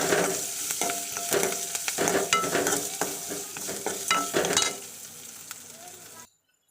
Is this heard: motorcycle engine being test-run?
no